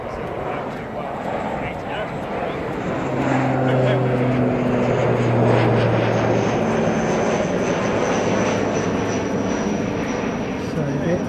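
An ATR turboprop airliner drones past at an airport, its engine and propeller tone swelling into a sustained roar with clear steady tonal bands, heard from a moderate distance outdoors.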